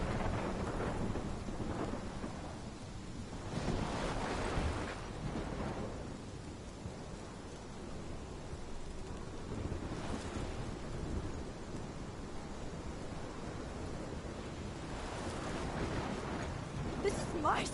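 A thunderstorm rolls on in the video game Life Is Strange. Steady heavy rain hisses throughout, and deep rumbles of thunder swell and fade several times, with what sounds like faint talk mixed in.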